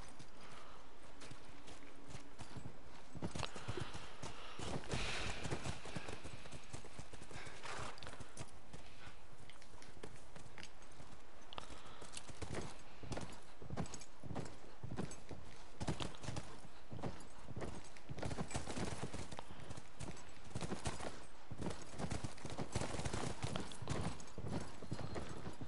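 Steady clip-clop of horse hooves at a trotting rhythm in The Last of Us video game, continuous and fairly close, with a faint background ambience and no talking.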